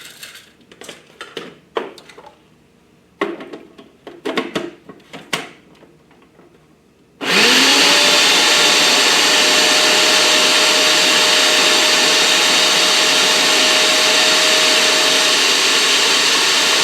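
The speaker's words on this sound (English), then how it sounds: "food processor and blend until it resembles flour" Oats clatter and rattle into a food processor bowl, then the motor starts abruptly and runs as a loud, steady high whir, grinding the oats into flour for several seconds.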